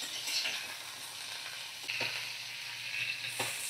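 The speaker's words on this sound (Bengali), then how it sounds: "ওই একই তেলে মিডিয়াম ফ্লেমে আমি রান্নাটা করে নেব।" Broccoli and cauliflower sizzle steadily in hot oil over a medium flame, a continuous close frying hiss with occasional brief stirring scrapes and pops.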